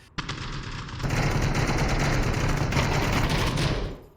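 Rapid automatic gunfire from the VR shooter Onward, during a competitive match: a single shot, then a sustained, loud burst of dense fire lasting about three seconds before cutting off, with no talking.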